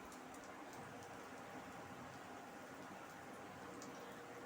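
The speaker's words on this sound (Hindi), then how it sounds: "बहुत हल्के हल्के ये फ्राई होंगे," Potato chapli kababs fry gently in a small amount of oil over low heat, giving a soft, steady, even sizzle and crackle, quiet and continuous throughout with no voices.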